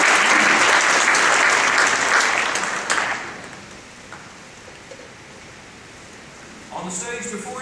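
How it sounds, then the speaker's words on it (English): School band concert audience at Atlee High School clapping, a dense loud burst of applause that fades out after about three seconds, followed by quiet room noise and a voice starting to speak near the end. "let's give them a round of applause"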